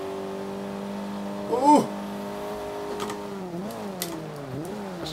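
Honda engine in Forza Motorsport 5, racing in an open-wheel one-make event, holding a steady high-revving drone with pitch dips and climbs through gear changes, while a player exclaims over it.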